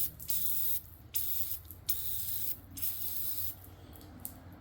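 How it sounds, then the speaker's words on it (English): Electromotive electric parts cleaner sprayed from both sides onto a car part on a Silverado with an idle problem: several sharp hissing aerosol bursts of about a second each, separated by brief pauses, fairly close and alone. "just clean this, spray it from both sides"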